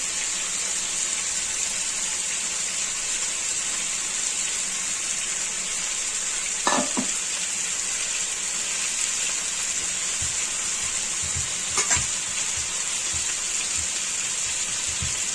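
Chilies, tomatoes and garlic frying in a pan with a constant bright hiss, broken twice by short sharp knocks of a utensil against the pan.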